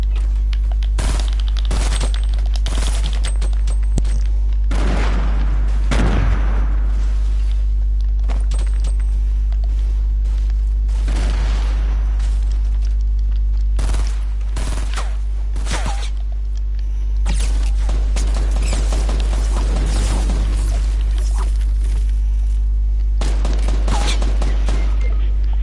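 A suppressed SMG fires in Fortnite, loud repeated bursts of muffled rapid shots separated by short pauses, with footsteps and movement sounds between volleys.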